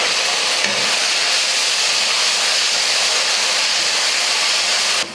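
Tomatoes sautéing in hot oil with softened onions in a pan, giving a steady, loud, close sizzle and hiss that runs unbroken throughout with no talking.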